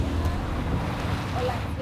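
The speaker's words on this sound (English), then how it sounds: "we're getting hammered by the wind and the waves" Strong wind buffets the microphone with a constant low roar, with rough sea water churning underneath; no clear talk stands out.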